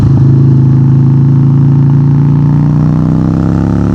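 A loud, deep Harley-Davidson motorcycle engine throbs steadily while accelerating, with a low rumbling tone, holding strong power throughout without any talking.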